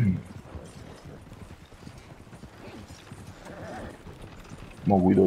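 Horse hooves clip-clop steadily in Red Dead Redemption 2 Online, a soft continuous patter of footfalls under game ambience, with a louder burst of sound near the end.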